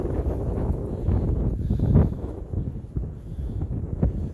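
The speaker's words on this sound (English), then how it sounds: "Is it windy today?" Strong, buffeting wind gusts roar outdoors, a loud, constant low rumble that swells and dips in bursts, beating against the microphone with no voices.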